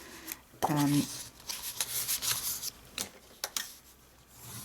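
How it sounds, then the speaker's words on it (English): Paper fold lines on a Stampin' Up! craft-fair treat box being burnished with a tool, heard as soft scraping rubs in short strokes, close and moderately quiet, with a brief louder pass near the start. "So we're burnishing all our fold lines."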